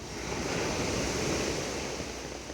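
Rough sea waves driven by a low-pressure system wash and roar steadily, a broad, hissing surge with some wind noise on the mic, moderately loud with no voices.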